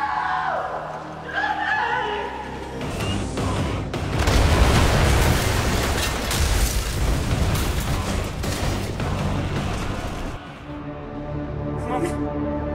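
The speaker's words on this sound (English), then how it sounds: "When Moose gets blown up, it's got to be big." Big cinematic blast as the robot Moose is blown up in the sci-fi film Chappie, a loud booming roar rising after a couple of seconds, rumbling for several seconds amid scraping debris, then dropping away abruptly into a quieter tail.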